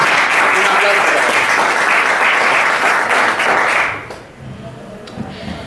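Audience applause at a podcast-apps workshop, a dense steady clapping that fills the room for about four seconds, then drops off sharply to a quieter room tone with scattered faint claps.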